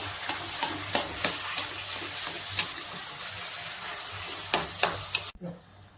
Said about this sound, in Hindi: अब इसको इसमें फ्राई कर दीजिए